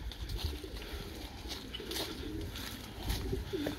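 Pigeons coo inside a breeding loft section housing hens, low soft repeated calls over a busy background of rustling and movement.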